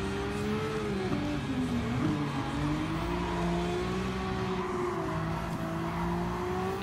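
A Nissan Skyline driven in Gran Turismo 7, its engine holding a steady, slightly wavering drone with one quick pitch dip and recovery, continuous and moderately loud over road noise.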